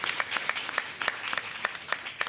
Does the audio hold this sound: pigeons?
no